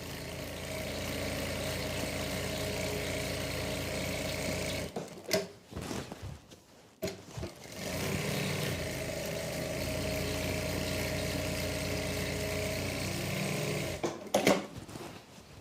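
A sewing machine runs steadily while stitching wavy lahariya seams on a salwar, with a continuous whirring drone that stops twice briefly in the middle and again near the end.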